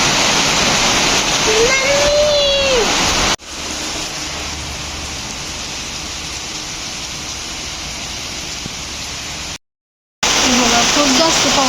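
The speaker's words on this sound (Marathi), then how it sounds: "खूप जास्त पाऊस पडत आहे आणि आम्ही बघा बाहेर बसलो आहोत पाऊसमध्ये" Heavy evening rain pours down outdoors, a loud, steady broadband hiss that runs without a break and stops briefly near the end before resuming.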